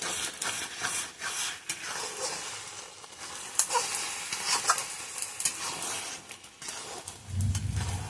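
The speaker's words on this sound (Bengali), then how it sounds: "নাড়া দিতে হবে।" Food frying in a pan on a home stove during a slow cook of spicy, chili-laden fish, with a steady sizzle broken by repeated scraping stirs and a deeper rumble near the end.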